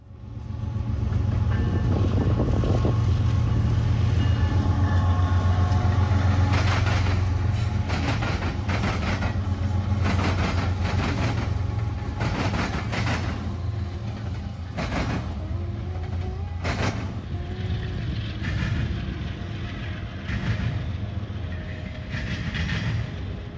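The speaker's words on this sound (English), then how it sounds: "was able to catch some BNSF trains going by, as well as the Metra train coming in on the Rock Island" A Metra commuter train pulls into a station on the Rock Island district near Joliet, a long, loud rumble with clattering wheels and rail clicks close by, fading slightly as it slows.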